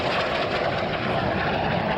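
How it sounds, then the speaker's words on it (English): Airplane making a low approach during an airshow display flown within the airfield perimeter: a continuous, loud engine roar that holds steady throughout, with no voices on top. "keeping the airplane almost within the airfield perimeter."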